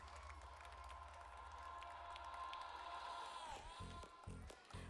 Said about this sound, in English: Please give her a big round of an applause.